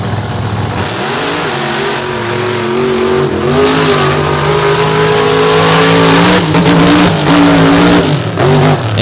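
Monster truck 'Toxic' on a Metal Shop chassis, powered by a big rear-mounted 557 cubic inch Oldsmobile engine, racing at a beach event: a loud, close, steady engine roar whose pitch climbs and holds under heavy throttle, with no talk.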